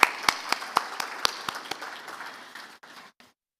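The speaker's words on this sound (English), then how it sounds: "let's give a round of applause to our speakers and panelists for today" Brief, sparse applause from a business summit audience in Islamabad, scattered individual claps fading out within a few seconds, moderately distant in a hall.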